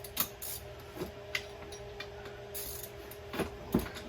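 A driver loosens the cylinder bolts on a Stihl 462 chainsaw: quiet, scattered mechanical clicks and short ratcheting ticks, a few sharper knocks, with no talking.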